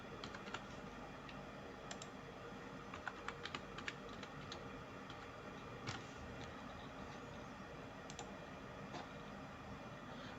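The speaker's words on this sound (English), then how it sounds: "Let me type new password." A new password is typed on a computer keyboard, with quiet irregular key clicks and a few sharper taps over a faint steady background hum, and no talking.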